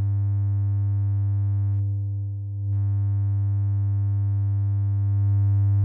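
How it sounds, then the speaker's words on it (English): A steady, humming sine wave from a Eurorack harmonic mixer synthesizer module drones evenly, briefly thinning out for under a second before resuming unchanged. "And here's a sine wave."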